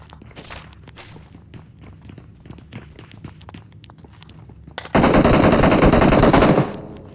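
Gunfire in a video game: scattered single shots and footsteps, then a sudden loud, sustained burst of rapid machine-gun fire lasting nearly two seconds before cutting off.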